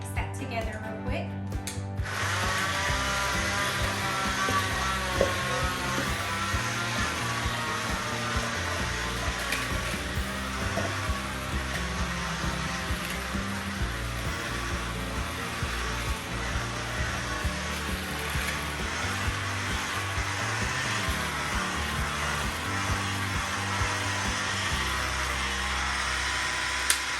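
A milk and powdered sugar glaze for king cake is whipped with an electric mixer, a continuous close whirring motor drone with a rattling, ratchet-like texture that runs steadily after a brief start.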